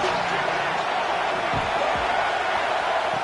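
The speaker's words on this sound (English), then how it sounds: "3rd down, and the crowd really getting into it" On a third down at a football game, a stadium crowd cheers in a steady, wide wash of noise, with a couple of faint low thumps inside it.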